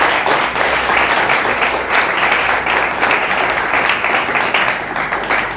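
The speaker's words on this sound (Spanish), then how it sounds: "Fuerte el aplauso al Señor." A church congregation applauds during a sermon with a dense, steady roar of clapping that stays loud and unbroken from start to finish.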